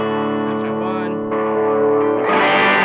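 A sustained, effects-laden electric guitar lead tone with slow volume swells and heavy reverb, growing brighter and louder toward the end.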